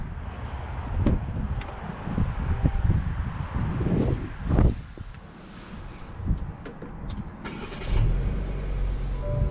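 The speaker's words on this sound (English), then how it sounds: "I'm going to go ahead and take this Envision on a Pov test drive and see how it does." A 2021 Buick Envision Avenir on a test drive, with a muffled cabin hum of engine and road noise that swells briefly as it accelerates and carries steady wind rush, no talking.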